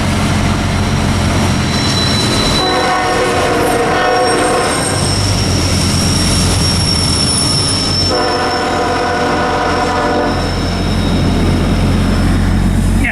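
CSX M383 freight train led by locomotive 7425 passes near Pulaski, New York, with a loud steady rumble of rolling cars and two long horn blasts.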